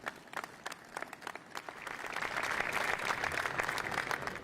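Scattered claps from an audience at a public event in Illinois begin sparsely, then swell into steady, moderately loud applause that holds to the end.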